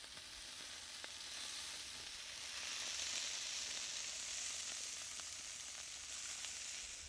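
Food sizzles and fries steadily on a braai at a dam's edge, a continuous faint crackling hiss with occasional small pops and no voices.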